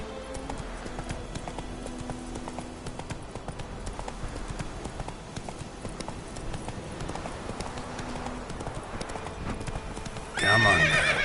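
In The Witcher 3, a horse gallops in a steady rapid clip-clop rhythm of hooves that runs throughout at moderate volume. A louder burst near the end may be a whinny.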